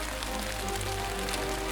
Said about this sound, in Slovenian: Odpreva okno in na najine dlani se vsujejo debele dežne kaplje.